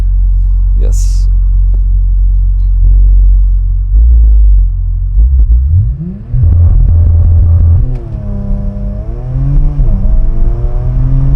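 A Porsche Macan GTS idles with a deep rumble, then its launch sequence fires it into hard acceleration, the engine note surging and climbing through quick gear changes, loud and close.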